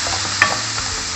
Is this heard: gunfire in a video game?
no